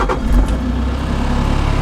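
A vehicle engine revving hard and close with a loud, steady roar.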